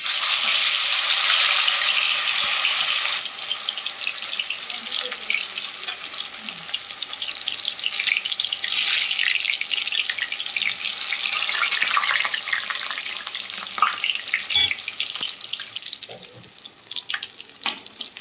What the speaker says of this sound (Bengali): এখন আমরা তেলে এটাকে ভাজবো